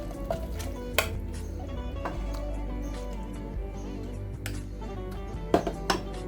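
Cuttlefish being sautéed in oil or butter in a pan, a soft steady sizzle with the scrape and clink of a utensil stirring against the pan, plus a few sharper knocks.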